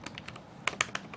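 Fingers tap a computer keyboard in a short irregular burst of keystrokes, several soft clicks then a few sharper louder ones, close up with no speech.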